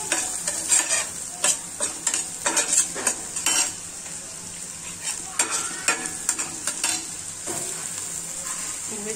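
Egg bhurji frying in a pan at home, with repeated metal spoon scrapes and clinks of stirring over a steady close sizzle.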